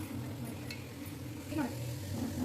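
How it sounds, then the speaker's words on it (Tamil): A cat gives a faint, short meow or two in a home kitchen during mutton dum biryani cooking, heard quietly over a low background hum. "நான் பூனை கேட்டுக்கிறேன்"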